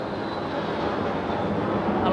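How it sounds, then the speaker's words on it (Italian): Airplanes pass overhead at Elma with a broad, steady engine roar that swells slightly toward the end, while faint voices murmur beneath it. "Gli aerei passano sopra."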